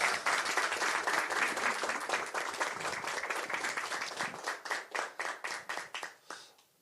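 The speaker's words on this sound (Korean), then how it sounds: "박수를 치려면 치죠." Audience applause at a Korean political party rally in Incheon, a sustained crowd clapping that thins out near the end into a few distinct, slowing claps before stopping.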